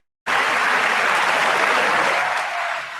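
Warm applause plays on a radio show, a sudden dense burst of many hands clapping that starts abruptly and holds steady and loud for nearly three seconds before easing slightly.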